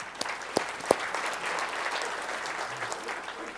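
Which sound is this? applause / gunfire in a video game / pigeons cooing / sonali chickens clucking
applause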